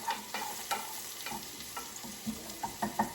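Onions and a bay leaf cooking in butter in a pan, with a steady soft sizzle and a series of sharp scraping stirs and taps of a utensil that grow more frequent toward the end.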